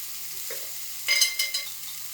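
Sandwich stuffing sautés in a pan seasoned with salt, chilli powder and garam masala: a soft, quiet sizzle, then a few brief stirring scrapes close by, with no talk.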